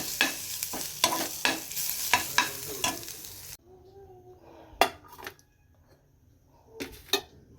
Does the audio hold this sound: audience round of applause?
no